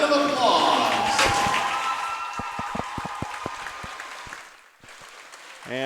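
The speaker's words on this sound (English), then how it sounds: "will you please rise and give all of our seniors and their parents a round of applause" Applause from spectators at a high school senior night swim meet in an Ankeny natatorium, with a tonal ringing sound underneath, thinning from fuller clapping to a few scattered, echoing claps before fading out.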